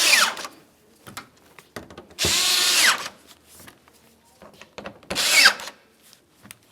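A power tool drives T30 screws along the top of the front bumper cover on a 2005-2010 Dodge Dakota, giving a few short whirring bursts and two longer, louder spins, close up, with quiet handling noise between them.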